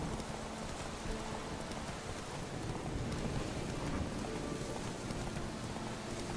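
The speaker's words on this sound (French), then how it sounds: "Oh, il pleut." Steady broadband rain hiss in The Witcher 3, dense and continuous, with a low rumbling undertone like distant wind or thunder, no voices.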